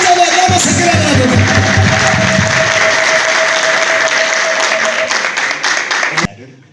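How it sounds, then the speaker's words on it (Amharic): An audience at an Ethiopian gospel singing event applauds loudly and continuously for a young singer, dense clapping with a voice speaking over it, fading out at the end. "ከፍ ያለ ጭብጨባ ሳታቋርጡ ለወንድማችን አዶናይ ከፍ ያለ ጭብጨባ"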